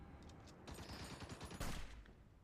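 Artillery fire in the strategy video game Hearts of Iron IV, a rapid crackling fusillade of overlapping shots that builds to a louder burst near the end, faint overall and with no speech.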